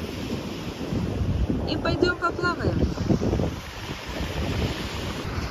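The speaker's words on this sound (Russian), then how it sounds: "Шум волны здесь настолько сильный, что я не знаю, будет ли даже слышен мой голос." Strong sea waves crash and wash against a pier on a seafront in Mersin, Türkiye, a loud continuous surf roar with wind buffeting the microphone while someone speaks briefly over it.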